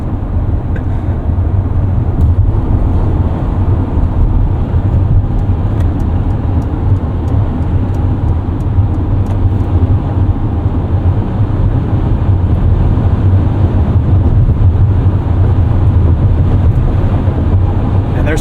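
A 2024 Mercedes-Benz eSprinter electric van drives at highway speed, giving a steady, loud rush of road and wind noise with no engine note, continuous and unbroken throughout.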